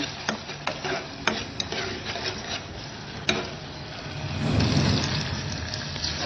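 Chicken kheema mixture with lemon juice is stirred and scraped in a pan, a spoon tapping and rubbing the metal in an irregular rhythm, close up, swelling into a louder rasping scrape toward the end, with no talking.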